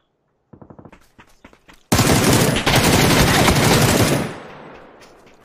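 Gunfire in a shooter video game: a quick rattling burst of shots, then a loud sustained automatic barrage lasting over two seconds before fading, with a few scattered shots trailing off.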